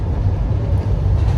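A train running near Bucharest, heard from aboard as a steady, loud, low rumble with no breaks and no talk.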